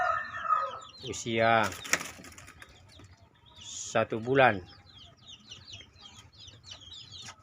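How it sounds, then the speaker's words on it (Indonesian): Month-old chicks of a Bangkok crossbreed chicken cluck and squawk in short bursts, with someone talking nearby. "Ini turunan ayam Bangkok"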